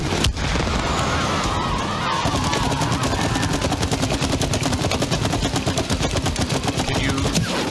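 Rapid machine-gun-style fire in the video game It Takes Two during the Wasp Queen boss fight, a dense loud stream of shots that starts with a sharp burst and keeps rattling throughout.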